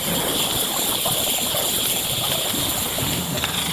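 Water spraying steadily over an old AU Ford Falcon ute during a rinse, a loud continuous hiss and splatter with no break, heard close.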